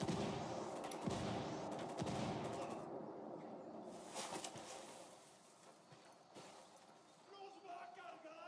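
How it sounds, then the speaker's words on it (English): Mortar fire in Ghost Recon Wildlands on Xbox One lands as a run of heavy booming blasts and cracking shots, several impacts spread across the stretch and fading into a rumbling background, with a voice faintly underneath. "I called Pakatari for some mortar fire."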